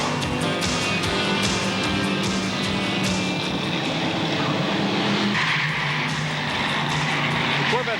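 Identically prepared Corvette race cars with big 5.7-liter V8 engines and aluminum heads racing at the Meadowlands, a loud continuous engine roar with passing surges and tire noise, a commentator talking over it.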